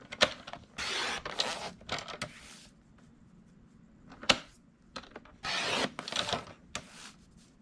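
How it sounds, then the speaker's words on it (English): Pieces of material are trimmed to 2 3/8 inch width with repeated short rasping cuts in quick bursts, fairly quiet and close, with small taps and clicks between strokes. "I am going to trim myself a whole bunch of pieces that are 2 3/8 of an inch wide"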